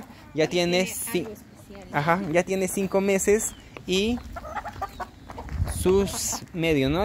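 A five-and-a-half-month-old black hen clucking in a farmyard, short clucks mixed in with someone talking close by in Spanish.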